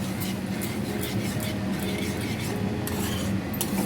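Ground cumin and coriander being stirred into dal in a pan, giving a steady close scraping and rubbing over a continuous low background hum, without clear breaks.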